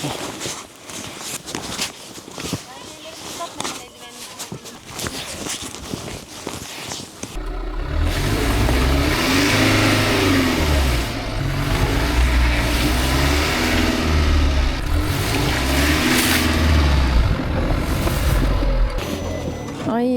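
A car engine revs hard and steadily, close and loud, while the car is worked free of deep snow at a snowbound winter caravan camp; it starts abruptly midway after a stretch of footsteps and voices.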